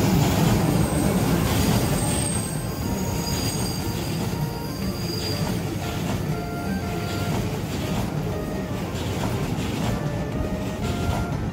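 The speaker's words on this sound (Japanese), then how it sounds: "新京成の列車もやってきたね ー。" A Shin-Keisei N800 series train pulls into the station, its wheels squealing loudly and steadily over the rail rumble for the whole stretch, close by and with no voices.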